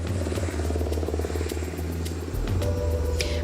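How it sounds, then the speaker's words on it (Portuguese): A Consamu medical helicopter passes over an emergency care unit, its steady low rotor drone loud and continuous, with a slight shift in pitch partway through as it flies overhead. "o helicóptero do Consamu acabou de sobrevoar aqui a unidade de pronto atendimento"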